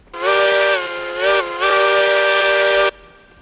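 A steam locomotive whistle in the railroad game RailRoads Online sounds loud and close as one long blast of about three seconds, dipping briefly twice before cutting off sharply.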